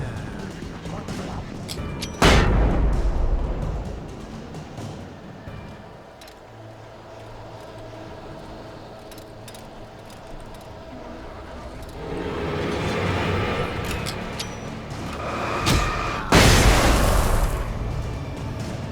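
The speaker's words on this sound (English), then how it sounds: "Alan Wake is tanking these flashbang grenades" Flashbang grenades go off in the video game Alan Wake, with a sharp loud burst near the start and another near the end. Between them comes a steadier stretch of rumbling game ambience and combat noise.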